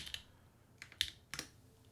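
Keycaps being pried off a Pangea Mini R2 mechanical keyboard with a Reggie keycap puller, giving a few sharp, separate plastic clicks and snaps close by in a quiet room.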